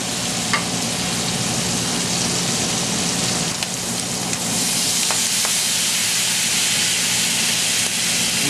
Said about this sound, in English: About a 1/4 teaspoon of fresh garlic pressed in there. And we'll get that sauteing.